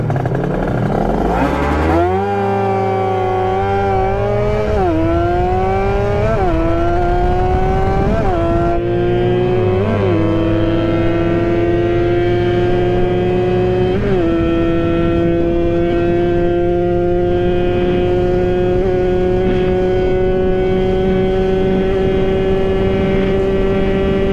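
A Kawasaki Ninja RR motorcycle runs at full throttle on the road. The engine screams loud and close, climbing in pitch through several quick gear changes, then settles into a sustained high, steady howl.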